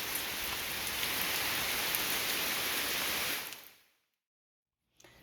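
Steady, dense rain hisses evenly for about three and a half seconds, then fades quickly into near silence, with a brief faint sound at the very end.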